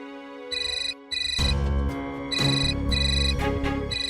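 A telephone ringtone plays in repeated electronic melodic bursts, loud and clear, with no talk over it.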